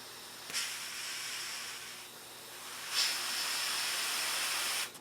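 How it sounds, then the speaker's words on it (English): Compressed air from an airline is blown through a Land Rover Defender speedometer cable in two long, steady hissing bursts, the first brief and the second sustained, with a quiet gap between them. "get the airline and see if we can just push that through"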